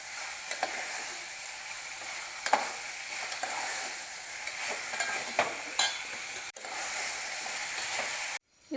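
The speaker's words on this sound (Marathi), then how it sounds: "थोडंसं तेलावरती परतून घेऊया" Chicken sautéing in a little oil in a pot, a steady loud sizzle with intermittent spoon scrapes and stirring clinks, cutting off abruptly near the end.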